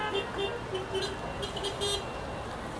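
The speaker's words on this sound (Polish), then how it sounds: "Trąbią, klaksony wszędzie." Car horns toot repeatedly amid steady traffic noise on a busy city street in Chimbote, Peru, with short, fairly loud honks over a constant roadway rumble.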